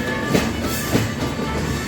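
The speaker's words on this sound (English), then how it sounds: "the train has eventually started" A train rolls along rails with a steady, dense rumble, and two faint clacks of wheels passing over rail joints sound about half a second apart under the continuous noise of the moving carriages.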